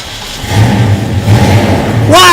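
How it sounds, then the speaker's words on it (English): The engine of a Pontiac GTO with a 389 Tri-Power and a 4-speed fires up and rumbles at a ceremony. Its deep mid-pitched running sound builds in loudness, then a sharp rev rises at the end, with voices underneath. "fire up that mighty fine 389 Tri-Power 4-speed GTO"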